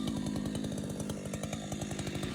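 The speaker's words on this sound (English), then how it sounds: "This chainsaw is pretty heavy, but it was good practice." A heavy chainsaw runs steadily at high revs, cutting into a tree during land clearing for tree removal on Kauai, with a fast even rasping pulse and no voices.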